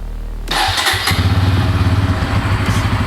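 A 2025 Bajaj Pulsar N160 motorcycle starting up close by: a brief starter whir, then the engine catches and settles into a steady, throbbing idle.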